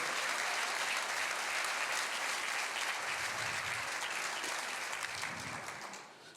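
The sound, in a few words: audience applause in church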